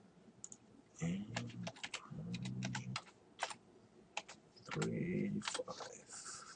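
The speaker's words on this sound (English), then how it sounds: "so I'm gonna type in admin" Quick bursts of keystrokes as a password is typed on a computer keyboard while setting up a home WiFi router, clicking in uneven clusters with pauses between, close and fairly loud, with brief low speech underneath.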